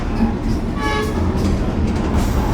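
A passenger train on the Lembah Anai line near Padang, hauled by a rare BB 303 locomotive, rumbles steadily as it rolls into a station, with loud continuous rail noise and a brief horn-like tone partway through.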